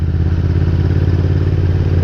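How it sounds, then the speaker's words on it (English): Close-up idle or steady running of a Triumph Speed Twin motorcycle fitted with a Vance & Hines exhaust, a deep, even engine rumble with a constant low throb that holds through the whole stretch. "It's got a Vance & Hines exhaust on it, and it sounds the business."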